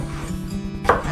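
A knife chops vegetables on a cutting board while chowder prep is underway, giving a brief run of close, steady knocks with one sharper hit near the end.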